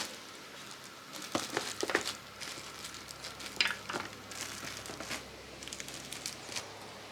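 Beef sizzling on a hot surface after a light spray of canola oil: a steady, faint crackling hiss with scattered sharper pops, no voices.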